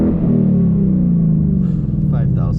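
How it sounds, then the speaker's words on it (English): Ford Mustang GT V8 fitted with an X-pipe, heard from inside the cabin as a loud, deep, sustained engine drone, with a voice briefly speaking near the end. "Revs outside the car were so loud. Let's see how it sounds in the cabin."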